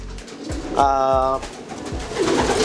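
Pigeons coo close by inside a small racing-pigeon loft in Manila, giving soft rolling repeated calls, with a human voice sounding at times in the background.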